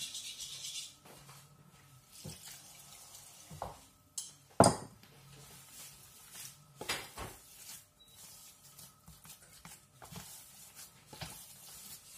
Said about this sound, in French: Faut bien mélanger, très important, afin que toutes les viandes soient bien mélangées